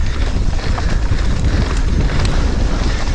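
Strong wind on a mountain bike trail roars loudly and steadily across the microphone, a thick unbroken rush with heavy low buffeting throughout.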